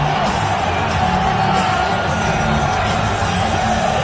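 Packed UFC 295 arena crowd cheers for Donald Trump's entrance, a sustained roar of many voices with scattered whoops and shouts, loud and unbroken from start to finish.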